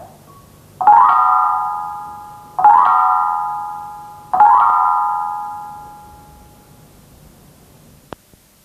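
Three bright, ringing upward sweeps in octaves on a Thai percussion instrument, each struck stroke sustaining and slowly fading before the next, followed by a single short tap near the end.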